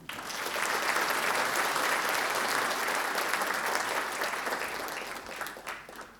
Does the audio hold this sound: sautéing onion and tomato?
no